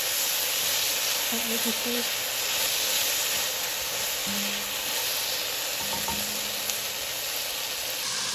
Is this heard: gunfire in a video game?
no